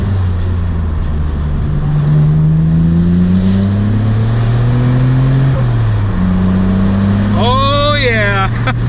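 A Nissan Skyline GT-R R32 engine hums and rises through the gears from inside the cabin, ending in a sharp revving burst with exhaust backfire; a voice talks over it.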